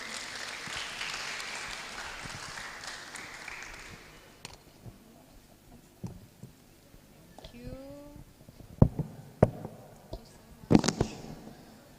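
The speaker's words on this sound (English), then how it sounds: "applause for them and their research" Applause from a webinar and inventors' talk audience is fairly steady for the first four seconds, then dies away into scattered claps, a short whistle-like tone and a few louder bumps near the end.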